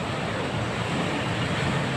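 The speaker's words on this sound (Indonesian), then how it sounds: "ombak-ombak biru yang menggulung menerpa batu dan pantai" Blue ocean waves roll in and crash against white coral rocks and the beach on a Nias island shore, a steady, loud, continuous wash of surf with wind and no voices.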